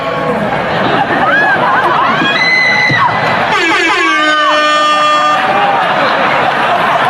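A loud, sustained air horn blares over a cheering, shouting comedy-show crowd, its tone sliding and wavering across several long blasts.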